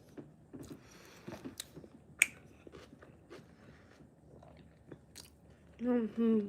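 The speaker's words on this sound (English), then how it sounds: "I hate those slurping sounds and heavy inhaling." Close chewing and biting with crisp crunches and a sharp snap midway, fairly faint and intermittent, while a brief voice comes in near the end.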